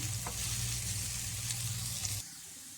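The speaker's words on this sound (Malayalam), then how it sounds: "നമുക്കിതൊന്ന് നെയ്യിലിട്ട് മൂപ്പിച്ചെടുക്കാം" Banana pieces frying in ghee give a steady, close sizzle with faint stirring, which stops abruptly near the end, leaving quieter background.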